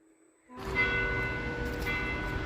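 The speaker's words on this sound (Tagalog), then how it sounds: "So, narinig nyo yung kampana." After a quiet start, a church bell in Copenhagen, Denmark suddenly rings out loudly, its rich resonant tones sustaining and overlapping with further strikes.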